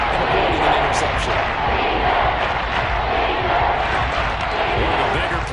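Loud, dense stadium crowd roar swells steadily in a video game football match between the Bucs and Falcons, a broad wash of cheering and noise with a voice faintly underneath.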